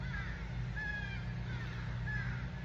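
Crows caw outdoors, three separate harsh calls spread across the moment, fairly distant and faint over a low background hum, with no talk.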